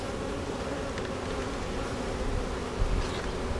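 Honey bees buzz steadily around beehives on a farm during a hive inspection, a dense continuous drone with a few louder passes close by.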